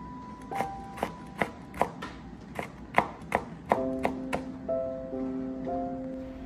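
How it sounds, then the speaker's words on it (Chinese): A knife cuts bird's eye chilies into rings on a board with about ten evenly spaced, crisp taps. Faint sustained ringing tones linger over the quieter ending. "将小米辣切成圈"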